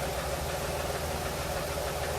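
An 08 Jeep Liberty engine idles with a slight tick, giving a steady, close mechanical hum with a fast, even ticking pulse running through it, and no voices.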